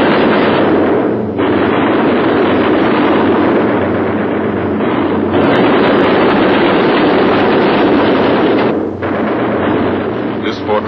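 Anti-aircraft flak bursts and gunfire surround a World War II B-17 bomber over Europe, a loud, dense barrage of booming blasts and crackling fire that continues without pause.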